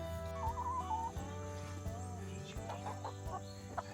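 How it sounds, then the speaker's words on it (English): Chickens cluck and murmur steadily around a Tennessee off-grid homestead, several hens close by with a low, constant hum underneath. "You can hear all the chickens around you."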